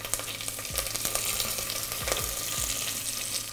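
Whole coriander, curry leaves, fenugreek, cumin and fennel seeds fry in hot oil for kadhi pakora, giving a bright, close, continuous sizzle and crackle with a few stirring clinks.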